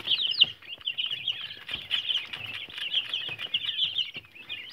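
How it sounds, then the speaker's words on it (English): Dense chorus of chirping bird calls, constant and fairly loud, with soft clucks underneath, like a coop full of quails and chickens. "And very loud, mostly the quails."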